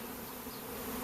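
A honeybee swarm drones steadily around a log hive outdoors, a continuous close buzzing hum with no pauses.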